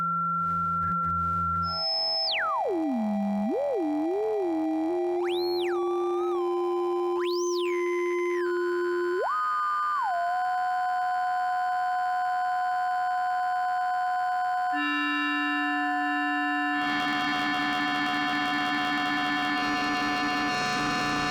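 A Schlappi Three Body synthesizer module drones in pure sine-like tones that sweep and glide between pitches, with sudden chirping leaps, held steady notes and a denser, buzzier cluster toward the end; clean and continuous, no voices.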